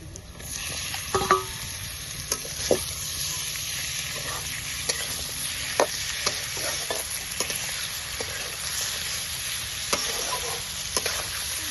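Duck meat fries in a pan over an outdoor clay stove, a steady soft sizzle broken by repeated scraping and clinking strokes of a stirring utensil, moderately close, with no talking.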